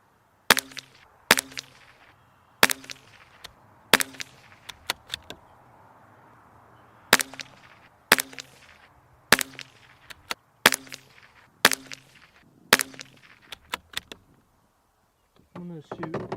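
Sharp, evenly spaced rimfire rifle shots from a Ruger 10/22 Target or Ruger Precision Rimfire firing Center-X ammunition at a range, about a dozen loud cracks with short gaps, some in quick pairs, no talking.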